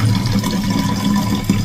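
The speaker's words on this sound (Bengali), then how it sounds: "কিরকম আস্তে আস্তে জল পড়ে দেখো।" Tap water runs slowly into a row of bottles in a kitchen, a steady thin trickle with a low burbling fill tone, continuous and close, with no talking.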